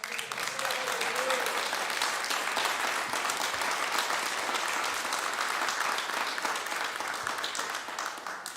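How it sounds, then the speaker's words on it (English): Steady, sustained applause from a church congregation at a Sunday morning service in a chapel, a dense wash of many hands clapping evenly throughout with no talk over it. "Let's give it a round of applause."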